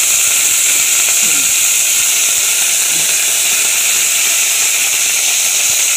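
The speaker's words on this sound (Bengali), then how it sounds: "এরপর আমি সোয়া শাকটা একটু ভাজা ভাজা হোক, বেশি ভাজা হবে না, অল্পই।" Dill greens frying in a pan for a potato and green pea chorchori, a loud, steady hiss of close sizzling oil that holds evenly throughout with no voice.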